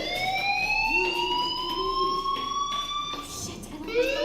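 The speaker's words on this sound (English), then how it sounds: "Hey, do you hear that fire alarm?" A fire alarm sounds in the Life is Strange video game, a continuous rising and falling electronic siren tone, steady and fairly loud, with a faint voice underneath.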